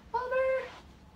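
A pet cat gives a single clear meow, fairly close and moderately loud, rising then trailing off over about half a second against a quiet room.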